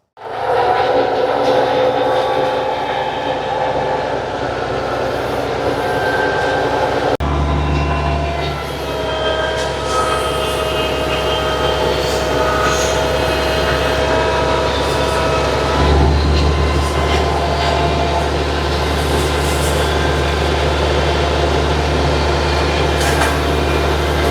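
A tractor-mounted brush cutter arm with a knife head clears a roadside bank, giving a loud, continuous engine drone with a steady mechanical whir that shifts in load partway through, with no voices.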